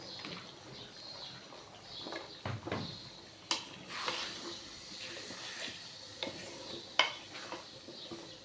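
Sweet potato and round potato pieces are stirred and fried together in a pan for a dried-fish curry, with faint sizzling and scattered scrapes and knocks of a spatula, fairly quiet throughout.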